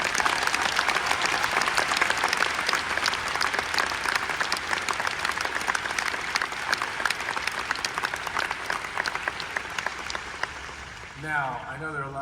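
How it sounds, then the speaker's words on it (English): A crowd at a D23 musical celebration applauds the honoree's children and grandkids, sustained even clapping for over ten seconds, with a brief musical tone creeping in at the very end. "So how about a special applause for that?"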